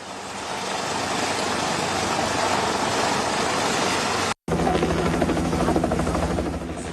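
An air force rescue helicopter flies during flash-flood rescues in Nepal, its rotor and engine a loud, steady broadband roar with rhythmic blade chop, briefly cut off midway, then continuing close and strong.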